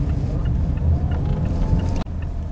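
A Mazda CX-8 engine held at higher revs in sport mode, a steady low droning rumble heard from inside the car, broken by a short thump near the end.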